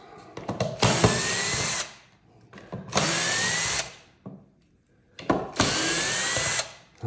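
A power drill with a Phillips bit backs out bolts from a B&O Beolab 4000 speaker, three loud whirring bursts of about a second each with a rising whine, separated by short handling clicks.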